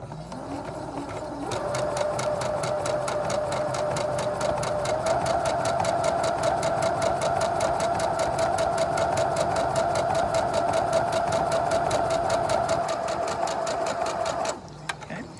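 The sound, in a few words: sewing machine stitching quarter-inch seam on quilt squares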